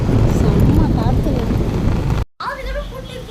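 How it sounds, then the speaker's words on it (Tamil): Strong wind buffets the microphone with a rough, continuous roar, loud and close, while a person talks over it before a brief dropout. "காற்று இப்படி தான் காற்றடிக்குது"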